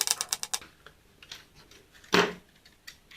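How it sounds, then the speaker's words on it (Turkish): Screws are backed out of a microwave oven casing during a keypad repair, producing a quick burst of rapid dry ratcheting clicks followed by scattered lighter ticks and one louder clatter of metal, close by with no talk. "Diğer bütün vidaları söküyorum"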